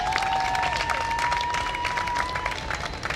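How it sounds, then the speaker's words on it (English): Audience clapping at a netball organisation gathering, a steady patter of applause from a moderate crowd, with a whistle-like tone running along under it. "she needs another round of applause."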